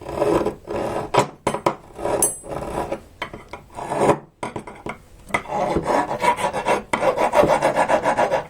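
A damaged rod from a Prusa i3 Mk3 3D printer is rubbed against material, giving close, harsh rasping strokes in an uneven back-and-forth rhythm with short pauses, like filing, with no one talking.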